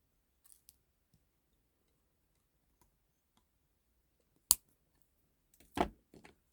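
Wire cutters snip off the tail end of wrapped jewellery wire on a pendant. A sharp click stands out in the quiet, followed by a few soft metallic clicks and handling noises.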